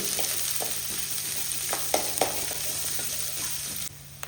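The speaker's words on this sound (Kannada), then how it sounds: "ಈರುಳ್ಳಿ ಅಂತೂ ಒಳ್ಳೆ ಫ್ರೈ ಆಗಬೇಕು ಇಲ್ಲಾಂದ್ರೆ ಹಸಿ ಹಸಿ ಇರ್ತದೆ ಅದು" Onions fry in a pan for a home-style Karnataka dish, giving a steady, close sizzle with a few clinks and scrapes of stirring, then the hiss drops away near the end. No one speaks.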